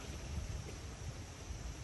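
Faint, low rumbling gusts of wind in Abidjan buffeting the microphone, with a soft broadband hiss underneath.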